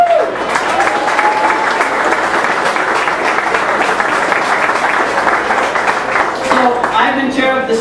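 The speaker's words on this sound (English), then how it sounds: "Give a round of applause." Loud, sustained applause from a crowd at a New Jersey political candidates' event, dense clapping filling the whole stretch with a voice briefly audible near the end.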